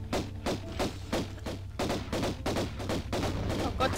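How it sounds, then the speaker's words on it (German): Repeated explosive pops and thuds from exploding eggs in the video game Tomb Raider I, Atlantis level, burst in quick, uneven succession, about a dozen sharp blasts packed closely together. "ich habe zwei von den Eiern explodieren lassen"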